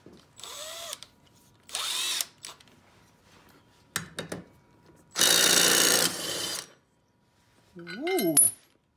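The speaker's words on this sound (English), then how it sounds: "It's an impact driver." A 1/4-inch impact driver removing mower blades, several loud close bursts of whirring and hammering with short pauses between them.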